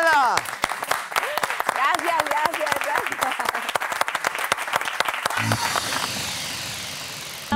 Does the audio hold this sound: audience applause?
yes